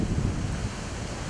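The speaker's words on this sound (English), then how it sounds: "Wow, it is windy." Steady, loud wind buffeting the microphone at a fishing spot, a continuous low rumbling roar with no voices.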